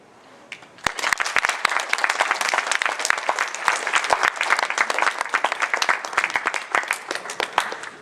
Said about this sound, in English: We applaud you tonight and always.